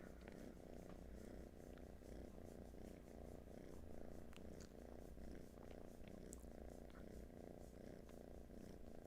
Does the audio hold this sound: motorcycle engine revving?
no